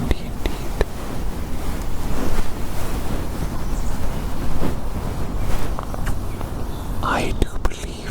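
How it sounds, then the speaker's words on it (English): Strong wind roars and buffets steadily across the whole stretch, with gusty surges and rumbling microphone buffeting, no talking. "Oh goodness me, it is very windy indeed."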